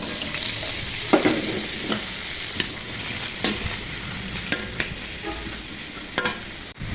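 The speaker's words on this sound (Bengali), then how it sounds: "কেটে রাখা গাজরগুলো দিয়ে ভেজে নেব" Chopped carrots and grated ginger sizzle softly in a pan for a mixed vegetable dish, with steady frying hiss and occasional sharp scrapes as the pieces are stirred.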